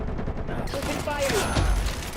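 Video game gunfire erupts in a rapid volley with a sharp, loud crack near the end, set against steady game sound and a voice.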